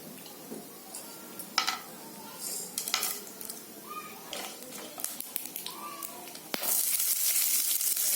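Cumin and garam masala fry in a little oil in a pan, giving a light sizzle with scattered utensil clinks and stirring scrapes, then a louder, steadier hiss of frying near the end.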